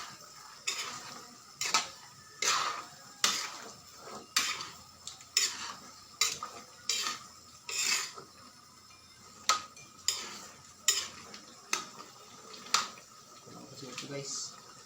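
A metal utensil scrapes and clinks rhythmically against a pan as a thickened savoury Filipino dish is stirred, about a dozen strokes at a steady pace, quite close, with soft sizzling beneath and a voice talking between strokes.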